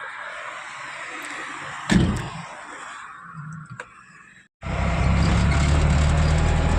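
An overloaded pickup truck gets under way: a sharp door slam, a quieter stretch with small knocks and a brief pause, then the engine settles into a loud, steady driving rumble.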